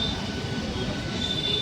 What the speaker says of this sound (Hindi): आखिरकार लंबा इंतज़ार के बाद ये लोकल ट्रेन एमएमटीएस आ गई है।